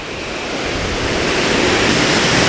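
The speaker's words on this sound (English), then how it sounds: "That's me at the bottom of the waterfall" Eas Mor waterfall at Kildonan, swollen after heavy overnight rain, roars in a loud continuous rush from close by at the bottom of the falls, building slightly in strength.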